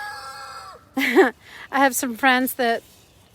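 A few loud, tonal fowl calls in quick succession, clucks and crowing-like squawks close by, after a brief steady hum.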